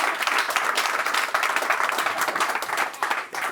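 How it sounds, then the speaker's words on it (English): Sustained audience applause at a Madden NFL 20 esports final, dense clapping from a crowd that holds steady for several seconds before dipping slightly at the end. "Can we get one more round of applause?"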